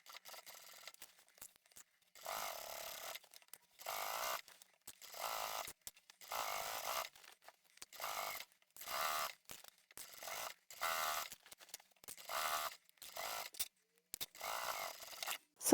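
A sewing machine top stitches a large scrappy reversible tote bag at a long stitch length, running in short, quiet bursts of rapid whirring separated by pauses, with no talking.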